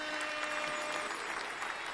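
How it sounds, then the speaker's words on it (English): A podcast audience applauds steadily, a dense wash of many hands clapping at an even level with no talk over it. "we're gonna clap that up again"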